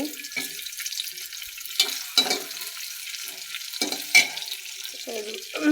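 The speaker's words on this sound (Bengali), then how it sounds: "দিয়ে দিব পেঁয়াজ কুচি" Chopped onions frying in oil in a cooking pot for a light fish curry: a steady, hissing sizzle with occasional clinks and stirring knocks, close and moderately loud.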